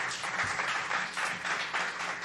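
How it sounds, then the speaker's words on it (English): A live music session audience gives a round of applause for a performer; dense, steady clapping fills the whole stretch at moderate loudness with no talking over it. "Give him a nice round of applause"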